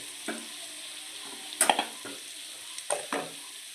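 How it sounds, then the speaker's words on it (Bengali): Spice masala of cumin and coriander powder fries with onion paste in a pan, a soft sizzle broken by a few sharp stirring scrapes and metallic clinks, fairly quiet and close. "দিয়ে এটাকে ভালো করে মশলাটাকে কষে নেব"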